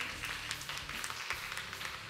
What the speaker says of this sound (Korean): 여러분 김대엽 선수에게 다시 한번 큰 박수 부탁드립니다